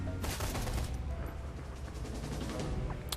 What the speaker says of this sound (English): let's do full auto fire on the mage